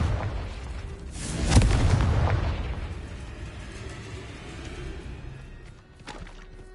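A Confringo blasting spell from Hogwarts Legacy goes off in one heavy booming explosion, with a rumbling tail that slowly fades, followed by a smaller pop near the end.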